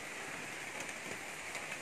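Heavy rain falling in a garden in the dark before dawn, a steady dense hiss of drops on surfaces that holds even and continuous throughout, with no voices.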